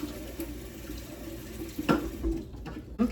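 Water runs steadily from a kitchen tap into a pot, a constant rushing hiss with a brief clink of the pot partway through, no talking.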